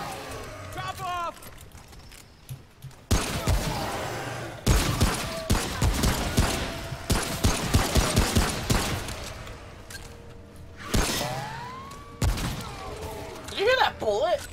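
Rapid bursts of gunfire from the Remnant video game crackle in heavy volleys, broken by short gaps, with players chatting over the shooting.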